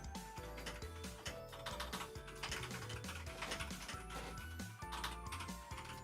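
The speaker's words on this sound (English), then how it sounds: "Don't mind the typing noises" Typing on a computer keyboard, a steady run of close, quick clicks and key taps under a dense, loud background of music or game sound with no clear voice.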